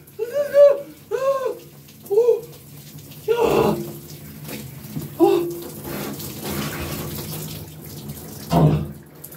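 An ice-cold shower runs in a steady hiss of water, while a man gasps and yelps in sharp bursts at the cold.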